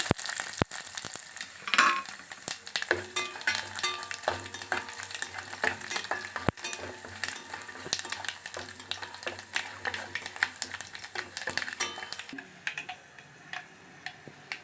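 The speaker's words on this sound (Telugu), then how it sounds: "కాగిందండి తాలింపు వేసేసుకోవాలి" Tempering spices crackle and sizzle in hot oil on a stovetop while brinjal bajji is made at home, a steady quiet fry dotted with sharp pops and ticks, with no voices.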